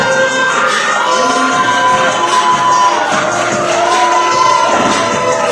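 A live wrestling crowd at a Massachusetts tag team match cheers and shouts loudly and continuously, a dense, close roar of many voices with occasional whoops.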